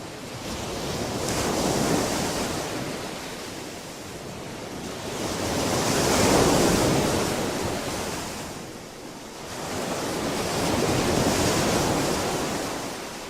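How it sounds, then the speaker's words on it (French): Ocean waves crash against coastal cliff rocks, three broad surging swells building and receding in a slow rhythm, loud and close with wind rush and no voices. "remarquez la force des vagues que subissent les roches côtières dans cette vidéo"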